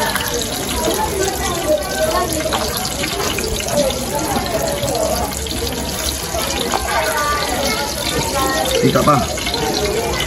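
Tap water runs steadily into a sink while dried parrot fish is washed under it, a continuous splashing flow with handling noises, as a person speaks briefly over it.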